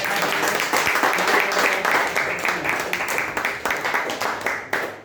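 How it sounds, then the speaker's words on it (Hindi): A crowd applauds after a speech, dense continuous clapping that stays loud and even throughout, with a few voices mixed in. "तो जबरदस्त तालियों के साथ"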